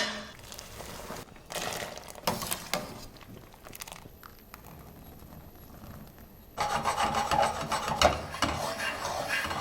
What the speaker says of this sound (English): Parmigiano Reggiano freshly grated on the spot.